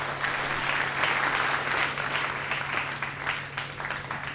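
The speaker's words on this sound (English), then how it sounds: "Please round of applause for these two teams." Steady, dense applause from a debate audience for two competing teams, sustained and fairly loud throughout with no talk over it.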